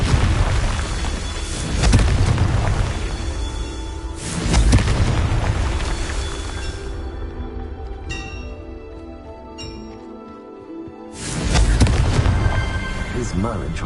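Confringo spells fired in the video game Hogwarts Legacy burst into deep, loud booms, three big blasts spaced several seconds apart, each trailing off in rumbling debris and crackle, with a voice heard faintly between.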